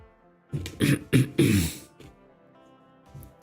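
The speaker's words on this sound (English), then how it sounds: "Is it because I keep clearing my throat?" Someone clears their throat in several quick, raspy bursts close to the microphone, followed by a few quieter vocal sounds.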